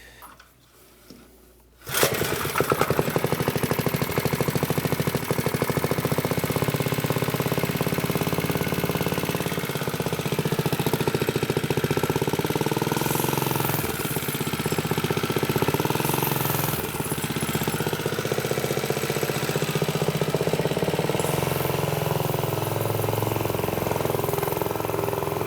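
A Piglet minibike engine, being revived with the choke on, is quiet briefly, then catches and runs. It settles into a steady, loud, buzzing small-engine drone that holds for the rest of the clip.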